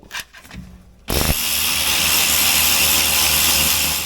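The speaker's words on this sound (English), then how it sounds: "I'll remove that last 13mm bolt" A power tool, likely an impact driver or ratchet, whirs up suddenly and runs steadily, loud and close, while removing the last 13mm bolt from a Chevrolet Silverado differential cover during a fluid change, after some brief handling noises.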